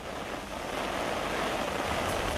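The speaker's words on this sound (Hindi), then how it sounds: "पानी की धारा इतनी तेज़ है कि कहीं कहीं ये पहचानने में मुश्किल हो रही है कि ये नदी है या फिर सड़क पर बहता पानी" Floodwater surges through city streets in Jammu during heavy monsoon rain, a loud, unbroken broadband rush that holds steady from start to finish with no voices.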